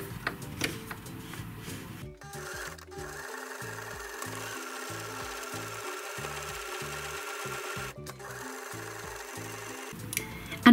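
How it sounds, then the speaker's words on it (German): A sewing machine stitches along the sides of a fabric storage basket, running in quick mechanical bursts with short pauses, close and steady over a faint room hum. "Und hier noch einmal mit meiner Nähmaschine entlang nähen."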